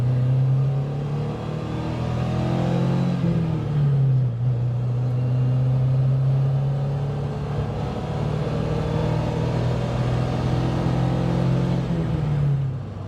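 A 1962 Alfa Romeo Giulietta Sprint Speciale pulls hard in second gear, its engine droning steadily with a noticeable rise in pitch as it accelerates, loud and close for the whole stretch.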